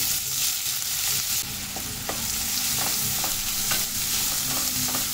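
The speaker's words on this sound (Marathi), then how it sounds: "मोठे कांदे 2 मी चिरून घेतले, त्यात आपण ह्यामध्ये तेलात घालूया." Large chopped onions sizzle in hot oil with cumin seeds, a steady close frying hiss broken by a few light stirring knocks, with no talk.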